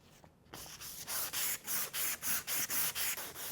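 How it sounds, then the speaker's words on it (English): Sandpaper rubbed back and forth on a motorcycle handlebar during a handlebar, grip and perch swap on a YZ450, making about a dozen rhythmic, close, scratchy strokes that grow steadier and louder. "You want to move your sandpaper around so you're getting both sides of the handlebar, and just work it back and forth."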